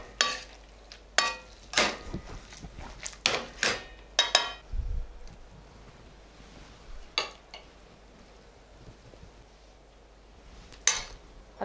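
A utensil stirs linguine with tuna and parsley in a pan, giving a series of irregular scraping and clinking strokes over a faint sizzle, close and moderately loud, then quieter near the end.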